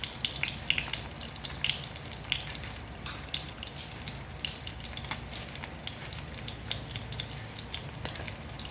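A tortang talong (eggplant omelette) fries in a pan, making a soft, continuous sizzle flecked with small crackles and spatters, fairly quiet and close, with no voices.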